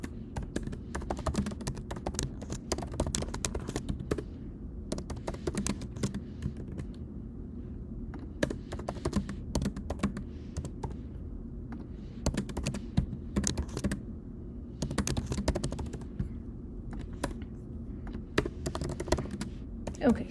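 Steady computer keyboard typing as a simple C++ program is written in a VS Code editor, with bursts of rapid key clicks separated by brief pauses across twenty seconds, close and moderately loud, no talking.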